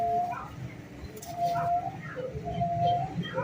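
A pigeon coos close by in several repeated low, throaty phrases, with other birds faintly around it in an outdoor yard with chickens and partridges.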